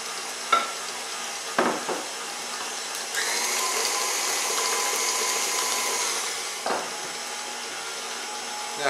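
An electric mixer whirs for a few seconds as it beats cream into cake batter for a 1950s sweet cream cake, framed by faint clinks and brief kitchen knocks, fairly quiet overall.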